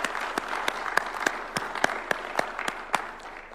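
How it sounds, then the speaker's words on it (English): Audience applause at a formal State House event in Kenya, a steady wash of many hands clapping with sharp individual claps popping out, moderately close and continuous without talk. "Let us give her a round of applause."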